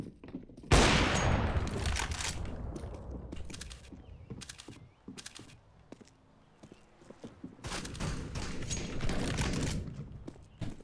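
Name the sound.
shotgun fire in video game Counter-Strike: Global Offensive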